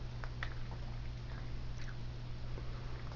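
A parrot at a Florida bird sanctuary chewing food, producing soft, faint crunching and squishing bites over a steady low hum, with no talk.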